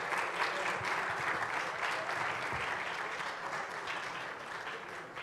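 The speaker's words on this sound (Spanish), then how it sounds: "Un aplauso." Applause from a panel audience at a science and technology entrepreneurship event, a steady continuous clatter of many hands that holds at even strength throughout.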